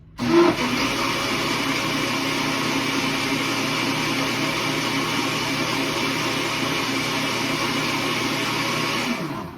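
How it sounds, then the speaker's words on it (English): A small cylindrical blender whirs through soaked pecans and water, starting with a brief louder surge and then running at a steady, close, droning pitch until it cuts off near the end. "It's a tiny little blender, very efficient."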